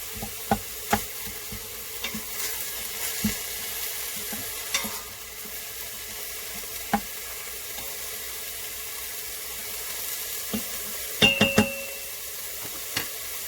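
Chopped onion, celery and garlic cook in a Pampered Chef Quick Cooker, giving a soft steady sizzle broken by scattered clicks and light knocks of stirring, with no talking.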